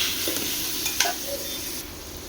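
Spices sizzling in hot oil in a pan for biryani, with a steady crackling fry and a stir of the spoon, close up and with no one speaking.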